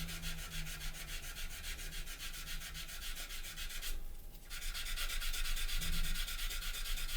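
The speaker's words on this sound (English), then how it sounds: "So we can just give this a nice little sand." Wood being hand-sanded after a CA glue and talcum repair, a steady rhythmic rubbing scratch close up, with a brief louder swipe partway through and no voices.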